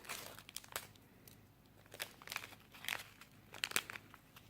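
A crinkly plastic packet of sprinkly candy topping for a Japanese candy kit being opened up close, with soft irregular crinkles and rustles and several sharper crackling bursts, quiet and with no voices.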